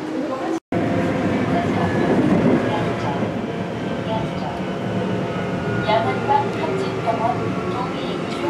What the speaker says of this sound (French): Go prendre le métro.